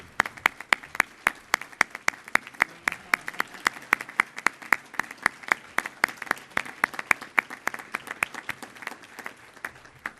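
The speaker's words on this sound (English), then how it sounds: "a round of applause for this special day" Rotary Club luncheon audience in Rochester applauding, a fairly small crowd whose sharp individual claps stand out in a fast, even rhythm, close and sustained throughout.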